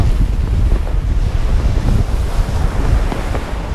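Storm waves and force 10 wind at sea around a sailboat surfing toward land, a loud rushing roar of breaking water and heavy wind buffeting the microphone, continuous and close.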